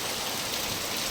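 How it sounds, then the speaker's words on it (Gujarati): Heavy rain driven by wind pours down in a dense, unbroken hiss that stays loud and even throughout, with no voices over it. "સવારનો ચાલુ છે વરસાદ હજી રીતો નથી"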